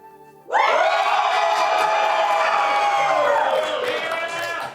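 Audience at a live show bursts into a loud roar of shouting, whooping and cheering after a short hush, a dense wall of voices that stays strong before easing slightly at the end.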